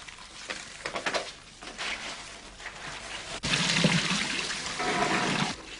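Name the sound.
rushes being rinsed in water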